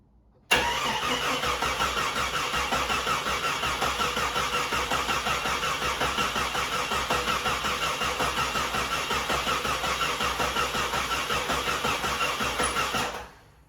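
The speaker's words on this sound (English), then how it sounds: "I'm gonna turn it over a couple times just to get oil circulating" A rebuilt Jeep 4.0 engine cranks over steadily with its injectors unplugged, a close, loud, rhythmic starter churn lasting about twelve seconds before stopping abruptly, with no talk.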